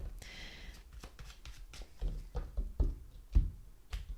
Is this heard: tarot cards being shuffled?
yes